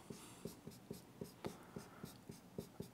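Pen on paper while writing down notes, a quiet series of short rhythmic strokes roughly every third of a second, close and soft with no speech.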